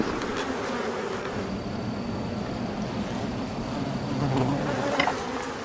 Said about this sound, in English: Within that is a colony of bees